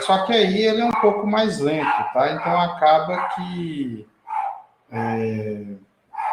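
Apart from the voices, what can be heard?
small pet dog barking excitedly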